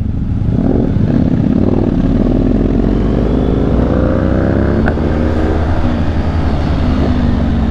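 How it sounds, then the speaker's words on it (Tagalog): A Ducati motorcycle's loud exhaust roars continuously at close range, a dense droning rumble with shifting engine pitch during a ride on curvy roads. "Ang lakas ng tambutso mo."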